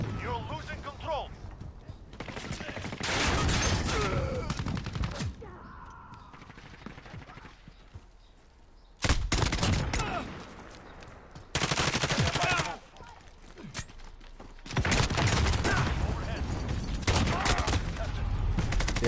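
An MK9 light machine gun in Call of Duty Modern Warfare fires in sustained automatic bursts, loud and close, with quieter gaps between strings of fire and game voice lines over parts of it.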